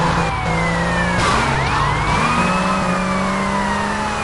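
An ambulance siren wails in GTA Vice City, rising and falling sweeps sounding loud and close over a rumbling vehicle engine.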